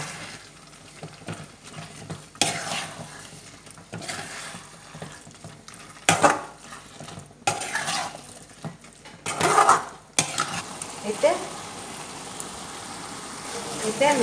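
A spoon stirs mushroom chili with coriander leaves in a pan on a gas stove, giving irregular scraping and clinking strokes over a soft sizzle, with a voice talking at times.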